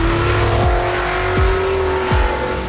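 Race cars in side races at Brands Hatch roar past, engines climbing through gears with repeated sharp shifts, loud and close, the drone rising and dropping in quick succession.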